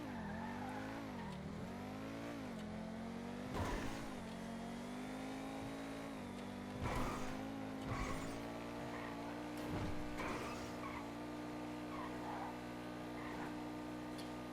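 A car in a GTA video game accelerates through higher gears with brake boosting, engine tone climbing and dropping in repeated sweeps under bursts of tire squeal and skidding, fairly quiet overall.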